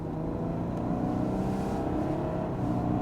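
Audi Q8 50 TDI diesel pulling away hard from first gear, a low engine rumble with slowly rising tones, fairly faint and continuous, without speech.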